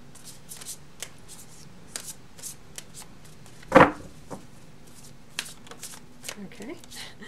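Tarot cards being drawn and shuffled by hand, with a run of soft riffling flicks and one louder slap in the middle, close by and with no voice over them.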